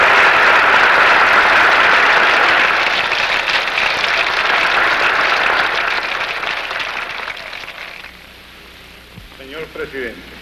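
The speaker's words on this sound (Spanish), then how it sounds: "el presidente de Venezuela es recibido con una gran salva de aplausos" Sustained applause in the United States Congress greeting the president of Venezuela at the rostrum, loud at first and slowly fading on an old documentary recording, with a voice starting to speak as it dies away.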